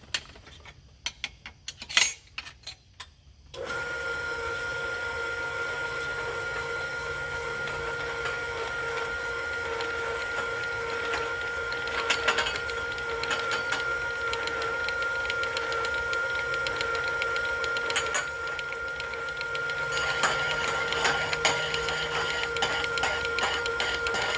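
A hand-cranked tube roller bends metal tubing, a few sharp clanks up front, then a steady mechanical whir with ticking and creaks as the crank turns, close and moderately loud, no voices.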